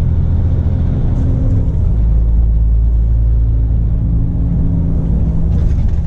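A diesel car pulls away with a steady, close, low engine rumble that holds evenly throughout, with no voices over it.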